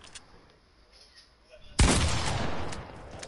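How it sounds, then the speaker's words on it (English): A single loud shotgun blast in a PS4 video game cuts abruptly through near-silence and leaves a decaying roar, preceded by faint background talk. "Why did I use a shotgun for that?"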